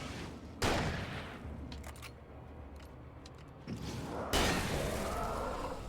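Two sharp bursts of gunfire in the video game Alan Wake, one early and one near the end, with a rattling mechanical lull between them.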